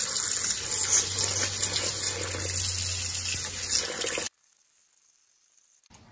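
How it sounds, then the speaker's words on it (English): Grain for makgeolli being washed gently in cold water, a steady gushing, splashing flow like a running tap that stops abruptly partway through and leaves near silence. "I'm going to wash it gently in cold water here and let it soak."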